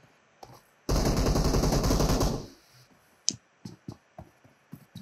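Sustained automatic gunfire burst in a Türkmenistan SKLAD tournament shooter match, a dense rapid rattle lasting about a second and a half, followed by scattered sharp clicks and pops.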